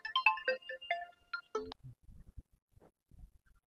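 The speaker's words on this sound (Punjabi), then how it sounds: "ਹਾਂ ਮੇਰੇ ਤਾਂ ਘਰੋਂ ਫੋਨ ਆ ਗਿਆ ਹੋਊਗਾ" A mobile phone ringtone sounds for an incoming call in a Punjabi short film, a short electronic melody in the first couple of seconds, followed by faint low thumps and rustling.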